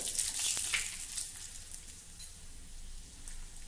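Curry leaves and fenugreek seeds crackle and sizzle in hot oil in a pan, a steady close frying hiss with a few sharper pops early on, then settling to an even sizzle with nothing else heard.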